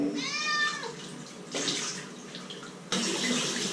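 Bath water running from a tap into a tub for a dog's bath, a steady hiss with a brief whining cry early on and a louder gush toward the end.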